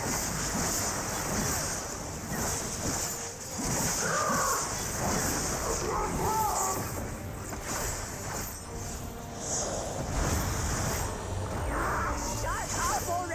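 A large bird caws in a video game by the sea, its harsh calls repeating over a bed of surf and wind while a voice talks over the scene.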